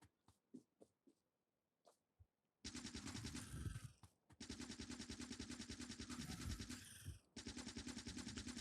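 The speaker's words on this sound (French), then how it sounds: "j'ai juste une mitrailleuse" Machine gun fire in the video game Factorio: a few scattered single shots, then long sustained rapid bursts broken by brief pauses, loud and close.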